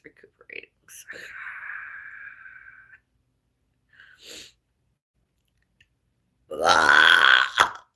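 A woman lets out a long, loud burp lasting nearly two seconds, followed after a pause by a short breathy sound and then a sharp, explosive burst near the end.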